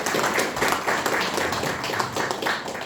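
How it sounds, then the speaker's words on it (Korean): An audience applauds at a centrist forum launch in a National Assembly seminar room, a dense, steady burst of many hands clapping at close range for a few seconds without speech. "여러분 박수 부탁드리겠습니다"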